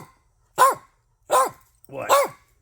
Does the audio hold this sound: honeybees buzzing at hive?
no